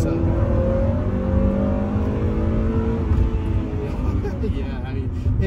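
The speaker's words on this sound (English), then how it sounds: "there's just something fun about ringing this thing out to red lines" A fifth-generation Honda Prelude Type SH engine revs hard toward redline, its rising harmonic note sustained and loud throughout.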